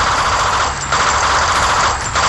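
Loud, dense automatic gunfire aimed at a fleeing target in a sci-fi action scene, a sustained harsh rattle for about two seconds with no pauses.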